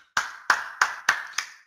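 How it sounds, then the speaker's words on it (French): Five sharp, evenly spaced hand claps from a single person, close and crisp, each ringing briefly before the next, with no voices over them. "Bon, on applaudit."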